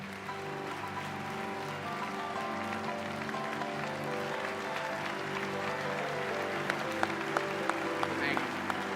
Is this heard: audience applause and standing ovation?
yes